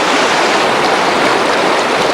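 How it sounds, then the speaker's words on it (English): A canyon waterfall roars as a loud, steady, broadband rush of falling water that fills the short clip with no voices. "There's a beautiful waterfall at the big canyon."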